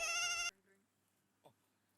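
A single short, bright electronic phone ring lasts half a second, then cuts to near silence with a faint thump.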